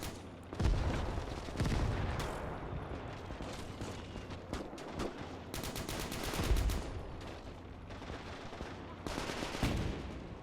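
Tank main gun blasts and rattling small-arms fire echo across a World War II battle in the game Gates of Hell, with a Panzer IV pushing forward; heavy booms punctuate bursts of fire at a moderate distance.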